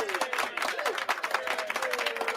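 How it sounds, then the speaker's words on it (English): A studio audience applauds on a television program, a fairly faint patter of claps with whistles and cheering voices threaded through it. "Are the applause too loud?"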